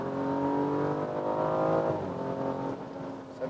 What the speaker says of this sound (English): Got that nice little pop and burble at the back.